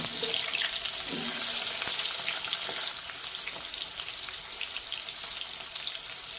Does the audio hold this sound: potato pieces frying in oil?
yes